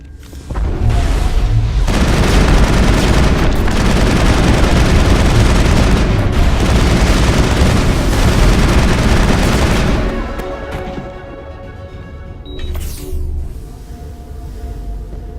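Gunfire in a firefight against commandos in the Mass Effect video game: dense, loud bursts of automatic fire and booms roar for about nine seconds, then thin out into scattered shots and a lingering hum.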